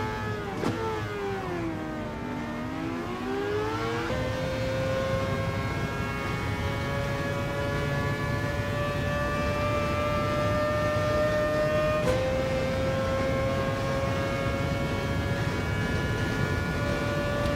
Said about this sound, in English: It just even the sound of those cars is crazy.